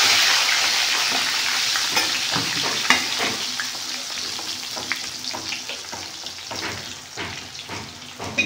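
Dried red chillies sizzle and crackle steadily in hot oil in a home kitchen while puliyogare tamarind rice is being made, with a dense continuous frying hiss and scattered pops throughout.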